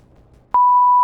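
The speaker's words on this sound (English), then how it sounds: "Okay, we'll beep it." A single steady electronic censor beep cuts in abruptly after a short stretch of quiet room noise and holds at a constant pitch, loud and alone, to the end.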